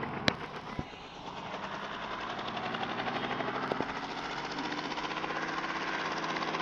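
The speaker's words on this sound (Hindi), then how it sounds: "ये हेलीकॉप्टर ये वाला जो पुलिस का है ना, ये तेज भी उड़ता है" A police helicopter flies fast in the mobile game Indian Bike Driving 3D. Its rotor beats as a continuous, fast pulsing drone that builds slightly, with a couple of sharp clicks near the start.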